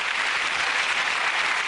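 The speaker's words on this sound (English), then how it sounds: "ladies and gentlemen, a round of applause for all the people" Steady, dense studio audience applause at a comedy panel show fills the whole stretch, a continuous wash of many hands clapping at even loudness, no voices on top.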